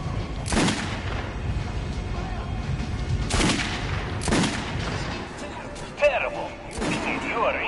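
Gunshots fired at a training dummy in Metro Last Light Redux: four or five loud, sharp reports spaced unevenly over several seconds, ringing briefly, with a voice speaking between the shots and a metallic clink near the end.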